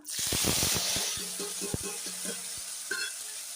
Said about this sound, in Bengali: এবার পেঁয়াজ কুচি আর টমেটো কুচি দিয়ে দিলাম